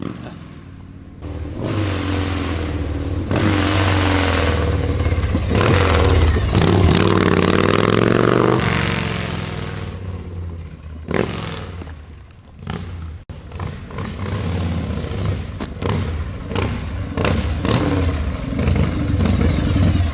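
Loud, sustained rumble of a 1985 Harley-Davidson FXSB Super Glide with Wide-Glide front end and drag pipes, revving and riding close by, dipping briefly before building again, with voices talking over parts of it.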